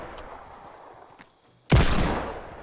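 Gunshots in the video game Fortnite: a single loud, sharp burst of gunfire lands suddenly after quiet, its noisy report trailing off over the following second.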